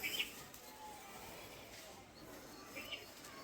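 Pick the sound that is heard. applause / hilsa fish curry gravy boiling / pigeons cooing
pigeons cooing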